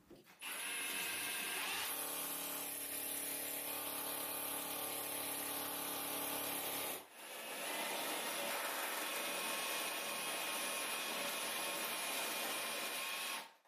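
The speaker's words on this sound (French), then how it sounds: "Une fois les points indiqués, vous pouvez forer." A power drill bores holes into a bathroom floor to fix a toilet, with loud sustained whirring bursts, a brief pause, then a second long drilling run, close and with no talk.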